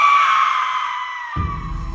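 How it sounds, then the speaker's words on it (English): A woman's drawn-out scream rings out in a radio-style Sherlock Holmes drama, loud and close, then breaks off as a low rumbling background takes over. "I woke to the sound of a scream."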